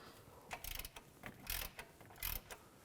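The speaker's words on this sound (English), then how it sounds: "Use a 15mm socket. Remove those 2 bolts." A ratchet with a 15mm socket loosening the AC belt tensioner bolts on a 2000-08 Chevy Tahoe engine, giving several short bursts of metallic clicking separated by pauses, close and fairly faint.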